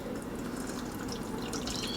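Apple juice poured into a strainer, a steady close trickle of liquid with fine dripping and splashing running through the whole stretch, no voices.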